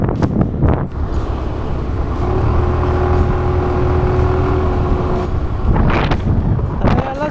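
A car drives along a narrow single-lane road near the White Rann in Kutch, its engine a steady low drone under wind buffeting the microphone, with an oncoming vehicle's hum and brief background voices toward the end.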